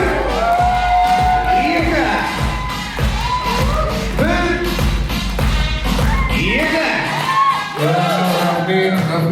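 A crowd at a child's first-steps celebration cheers, whoops and claps in a loud, dense burst that carries on throughout, with shouting voices mixed in and occasional thumps.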